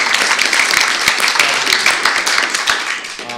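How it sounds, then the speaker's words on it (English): Brief, dense applause from an audience at a law lecture on trial practice, many hands clapping together in a steady burst that stays loud throughout. "can we have a round of applause for Olivia?"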